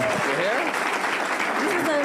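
Dense audience applause at an evening conference on combating antisemitism, loud and continuous for about two seconds, with voices audible over the clapping.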